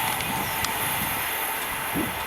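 A Virgin passenger train runs through Cheddington station bound for Glasgow Central from London Euston, a fairly faint, steady rushing rumble with a hissing wash and a brief wheel squeal near the end.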